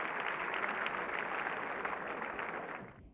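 An audience applauding at the 1998 Kral music awards ceremony in Turkey, dense clapping from a crowd that holds steady, then fades away and cuts off near the end.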